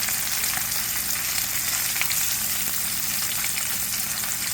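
Walleye cheeks fry in a pan, giving a steady, dense sizzle and crackle of hot oil that holds even and fairly loud throughout, with no voices.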